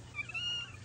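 A house cat gives a single short, faint meow, brief and close in a quiet room.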